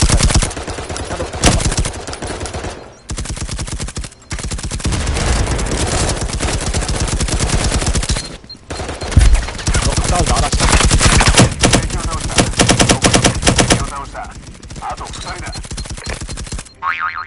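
Dense, loud gunfire from the VR game Firewall Zero Hour, rapid automatic bursts running almost continuously with brief pauses, close and harsh, with players talking beneath it.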